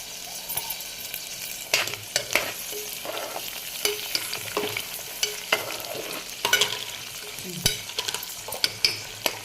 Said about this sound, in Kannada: ಇವಾಗ ಬೀನ್ಸ್ ಹಾಕೊಳತ್ತಿ ನೋಡ್ರಿ